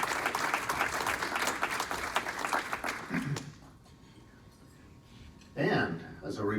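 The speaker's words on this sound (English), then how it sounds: "Let's give them a round of applause for all the work they put in this year." Applause fills a Rotary club meeting room for about three seconds, then dies away into quiet room tone before a voice speaks near the end.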